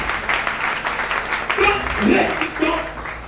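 Church congregation applauding and acclaiming during a French and Lingala sermon on redemption, a steady wash of clapping and cheering voices with talk and shouts mixed through it.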